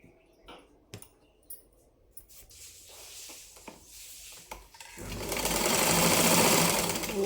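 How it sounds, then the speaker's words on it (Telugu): A sewing machine stitches cross straps onto a lined blouse, starting with a few scattered clicks and short handling bursts, then settling into a loud, continuous whirring run of rapid stitching near the end. "ఇప్పుడైతే నేను కుట్టుకొని అయితే చూపిస్తున్నా మీకు"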